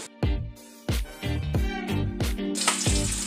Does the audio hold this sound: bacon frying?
yes